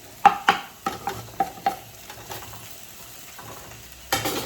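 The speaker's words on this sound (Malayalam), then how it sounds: "ഞാൻ മസാലകൾ അങ്ങ് ഇട്ട് കൊടുക്കണേ. മല്ലിപ്പൊടി, കാശ്മീരി ചില്ലി, മഞ്ഞളും കൂടി." Coriander, Kashmiri chilli and turmeric powders fry in hot oil in a pot, a soft sizzle broken by sharp clicks and scrapes of a spoon stirring, close and with no voices.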